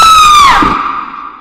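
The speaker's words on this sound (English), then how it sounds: "He just used this scream. This was my scream." A screamed vocal sample used in a music beat: one high, sustained voice with a strong pitch that slides downward and fades, close and loud, with no speech.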